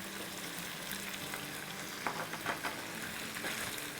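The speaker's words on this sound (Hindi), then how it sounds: "1 मिनट इसको भून लेंगे लहसुन अदरक के साथ" Garlic paste and ginger paste frying in a pan for chicken korma, a steady close sizzle with a few scraping stirs partway through, and no voices.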